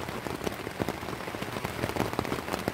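Rain pattering steadily on a shelter roof, many close drops striking the surface in a continuous, fairly loud hiss with scattered sharper taps.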